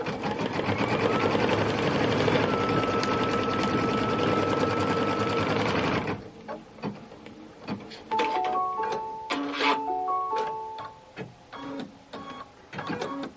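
An embroidery sewing machine stitching a tack-down line in pink thread on hat fabric, a loud continuous rapid whirring hum for about six seconds, then stopping and leaving scattered clicks and short electronic beeps.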